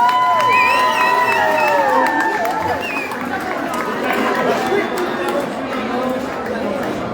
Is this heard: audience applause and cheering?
yes